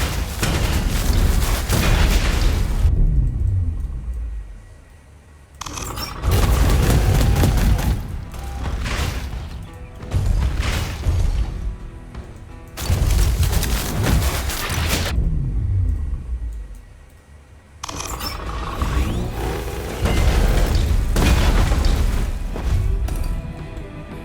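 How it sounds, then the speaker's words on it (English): Repeated bursts of in-game shooting with metallic reloading clicks and ratcheting mechanisms, loud and booming, separated by brief quieter gaps. "Shooting and reloading."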